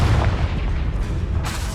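The Confringo fire spell in the video game Hogwarts Legacy bursts with a dense, booming blast and rumbling crackle, loud and close throughout, ending in a sharper hiss.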